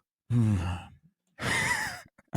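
A long, breathy yawn-like exhale up close, followed by a second drawn-out, voiced breath, with no other talk.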